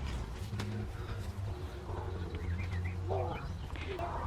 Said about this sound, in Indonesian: Kicauan-kicauan burung.